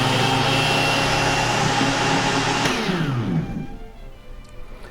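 Blender whirring through chia seed pudding with a loud, steady high-pitched motor whine that drops in pitch and winds down after about three seconds, leaving quieter rattling.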